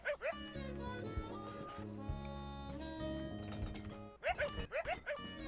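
A cartoon dog in a 2D indie platform game barks, giving a few quick, high yips near the end over steady game music.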